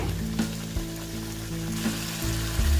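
Masala fries and bubbles hard on a high flame in a pan. The sizzle is loud, close and continuous, and nobody talks over it.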